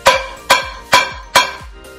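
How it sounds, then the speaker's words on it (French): A frying pan struck four times in steady succession, each hit a sharp metallic clang with a short ringing tail, close and prominent with nothing else heard. "ça c'est le bruit d'une poêle"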